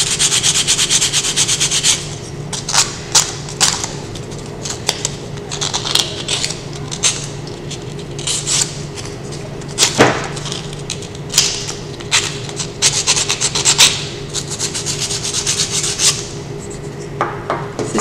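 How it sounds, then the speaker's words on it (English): Soft wood keyring edges being sanded by hand to remove a small lip left by CNC cutting, giving a steady close scratchy rubbing with irregular strokes and sharper scrapes throughout, no talking. "So your first step is to sand the edges."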